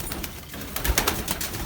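A coloured pigeon of an old pure breed coos softly at close range, a few low murmuring notes against a dense, noisy background.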